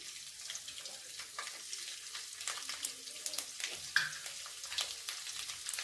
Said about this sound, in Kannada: ಈ ಒಂದು ಸಣ್ಣದಾಗಿ ಹೆಚ್ಚಿಟ್ಕೊಂಡಂಥ ಬೆಳ್ಳುಳ್ಳಿ ಕೂಡ ಇದಕ್ಕೆ ಹಾಕೋರಿ